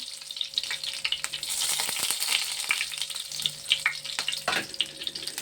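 Small pieces of curry leaf fry in hot oil with loud, crackly spitting and bursts of sizzle, uneven pops and stirring scrapes, close up and with no talking.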